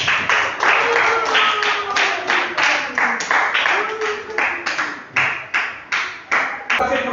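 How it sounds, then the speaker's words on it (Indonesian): A classroom of seventh-grade students clapping together in a quick, regular rhythm of sharp, loud claps that runs for several seconds, with some voices mixed in. "Coba dengarkan, tepuk tangan dulu semua."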